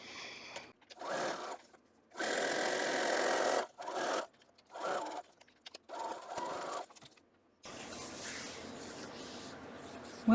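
Domestic sewing machine stitching a quilt block seam, running in several short bursts of fast mechanical whirring separated by pauses, then one longer steady run, close and fairly loud.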